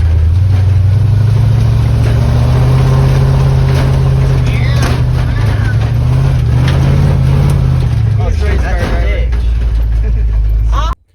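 A 1976 Ford Highboy truck engine runs as the vehicle drives off-road, a loud low drone that rises and falls steadily before cutting off at the end.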